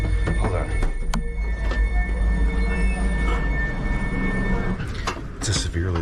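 A very long train slows to a halt, with a steady low rumble and rolling wheel noise, thin high squeals and a few clanks, heard from on board as people talk now and then.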